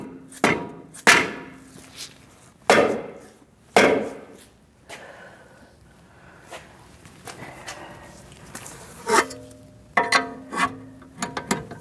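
On a 2008-2014 Mercedes-Benz C300, a front control arm is tapped into place with a series of sharp, close metallic knocks in irregular clusters, separated by quieter handling and rattling sounds.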